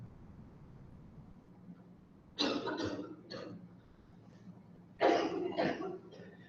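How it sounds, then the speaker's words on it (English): Two harsh coughing bursts, each a cluster of rapid hacking coughs, about three seconds apart, close and loud over a quiet low hum. "having a coughing fit"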